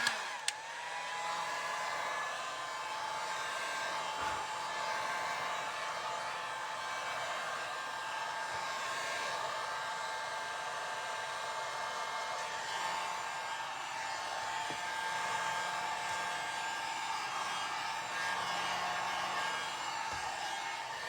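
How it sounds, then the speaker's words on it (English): A heat gun on its low setting blows with a steady, close whooshing hum that holds unbroken throughout, as it warms glue on a wooden lyre soundboard. "we're going to apply the heat gun on low setting"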